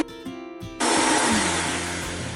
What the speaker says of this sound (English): this is my old Vitamix blender that I've had for almost 20 years